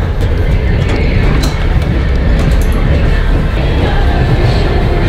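Moving train heard from inside a passenger carriage: a loud continuous low rumble of wheels and carriage with steady rattling and occasional faint clicks and squeaks, no one speaking.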